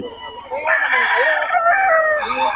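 A rooster (stag) crows loudly and close, one long strained call with clucking around it, in a farmyard setting in Bocaue.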